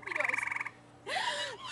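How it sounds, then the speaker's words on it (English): A frog gives a quick pulsing trill of rapid chirps, followed by a second, longer buzzy croak after a short pause, close and clear with no voices. "That frog is mocking me, I swear."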